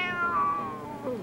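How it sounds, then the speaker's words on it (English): A cat meowing within a museum exhibit soundscape, one drawn-out, clear mew that bends downward and ends in a short rising squeak, near and moderately loud with no voices. "Watch out for the cat."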